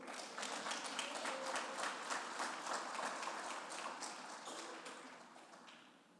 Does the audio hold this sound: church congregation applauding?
yes